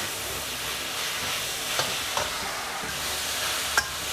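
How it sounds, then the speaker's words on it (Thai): Beef with mala spice is stir-fried dry in a hot pan for a Thai basil dish, giving a steady loud sizzle and hiss throughout, with occasional scrapes of the spatula and no talk. "ใส่ลงไปแล้วก็คั่วๆนะครับ ให้มันแห้งๆนิดนึงนะครับ"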